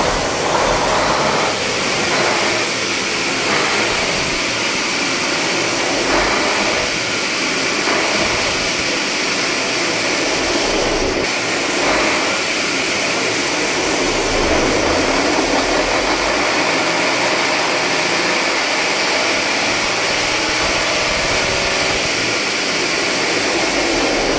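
A Hostpower double-engine 680 setup running continuously, a loud, dense roar with steady rumble and no let-up throughout, with no talk over it.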